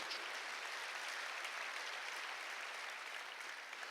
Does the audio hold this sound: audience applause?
yes